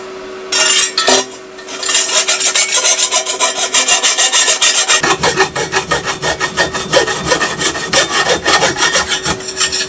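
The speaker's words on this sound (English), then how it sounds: "try and file it away a little bit around it." Metal is filed by hand around a pipe on a motorbike build, with a loud, close rasping in rapid rhythmic strokes after a few short scrapes at the start and no talking.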